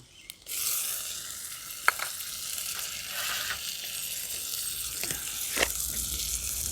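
Chopped tomatoes drop into a pan of reddish-fried onions for a katla fish curry, setting off a loud, steady sizzle with occasional stirring scrapes and clicks, close up and without talk.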